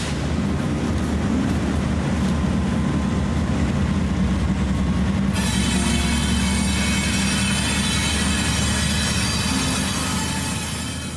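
A manifest freight train rumbles past continuously and loud at close range, a dense steady roar of rolling cars and engine noise that holds for the whole stretch without pause.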